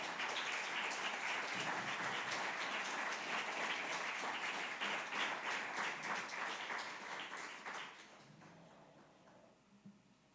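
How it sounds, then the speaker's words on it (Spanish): Church congregation at a Spanish-language service applauding together, a dense burst of many hands clapping that holds steady for several seconds, then thins out and fades to scattered claps. "Dale un aplauso al Señor"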